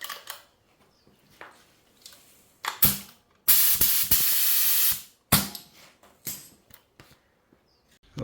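Spray gun laying sapphire and silver pearl paint over white base coat, heard as several short hissing bursts and one long steady spray of about two seconds, loud and close, with quiet gaps between.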